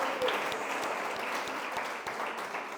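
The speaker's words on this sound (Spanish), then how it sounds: "Dale un fuerte aplauso a Él." A church congregation claps together in a steady, dense burst of applause during a worship service, a few sharper claps standing out as the sound slowly eases off.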